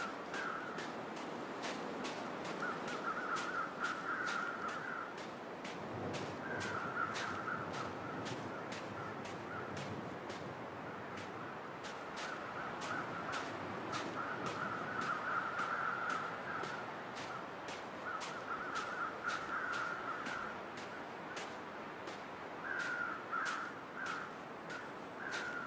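Crows caw repeatedly in the survival video game The Long Dark, loud and insistent calls in irregular bursts over a steady wind-like wilderness background.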